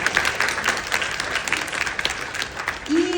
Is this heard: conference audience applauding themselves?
yes